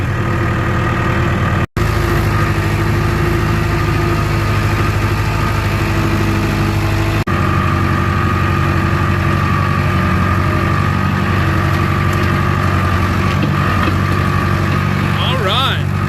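Four-wheel-drive farm vehicle engine running steadily during storm cleanup, a constant low idling drone with a brief cutout, heard close with occasional talk.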